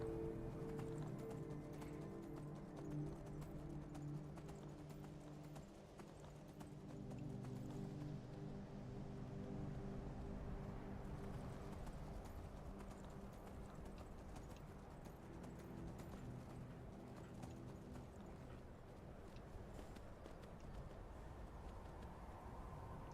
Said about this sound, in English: Oh no, my poor horse's hooves.